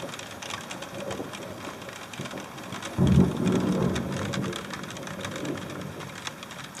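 Rain pours steadily on a boat while a low thunderclap breaks midway and rolls off slowly, fading back into the constant patter.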